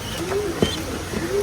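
Newly acquired racing pigeons coo softly and repeatedly at close range, low throaty calls rising and falling with short pauses between them and no talking.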